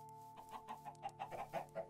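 Chickens in a video game chicken coop give a run of soft, rhythmic clucks, about a dozen short calls in quick succession at moderate distance with a low steady hum beneath.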